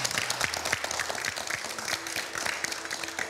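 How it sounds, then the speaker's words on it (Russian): A university audience applauds a rector after his speech, with steady moderate clapping from a crowd in a hall, fairly even throughout the short stretch. "Спасибо, аплодисменты."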